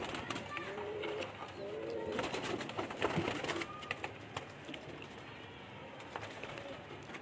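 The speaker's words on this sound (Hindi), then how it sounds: "ये कबूतर, ये इसकी फीमेल मादा इसकी।" A male and female pigeon pair coo softly and repeatedly in a loft, with someone talking over the low, throaty calls throughout.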